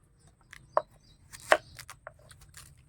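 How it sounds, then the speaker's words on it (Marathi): Knife slicing raw green mango into thin vertical pieces for a pickle, heard as a few sharp, close chopping strikes on a board spread unevenly over a quiet background, with no talking. "कैरी कापून घ्यायच्यात आपल्या"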